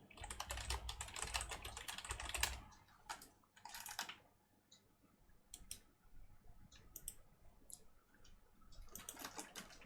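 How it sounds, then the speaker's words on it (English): A kitten walks across a computer keyboard during gaming, keys clacking in irregular bursts of rapid clicks separated by short pauses, close and fairly faint. "Dora, get off the keyboard."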